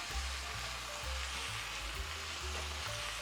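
Carrot going into a pot of chicken stew, with a steady, close sizzle and frying hiss running throughout, no voices.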